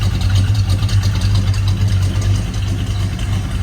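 A 1972 Dodge Duster with a 340 Wedge V8 idles in a closed room, a loud, steady low rumble with a slightly lumpy pulse that fills the whole stretch without any talk.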